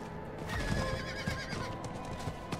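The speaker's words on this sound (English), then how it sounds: "this horse is going crazy" A horse in the video game Diablo 4 neighs in a high, wavering whinny, with hoof clops and thumps around it at moderate distance.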